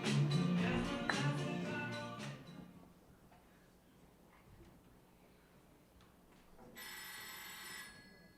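A telephone rings on stage during a school fall play: a bright ringing tone opens over rich musical sound, then a quiet hall with faint murmurs, and the ringing returns near the end, moderately loud.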